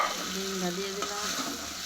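Egg dropped into a pan of spiced masala with turmeric, salt and cumin powder, frying with a close, steady sizzle and scraping stirs throughout, no voices.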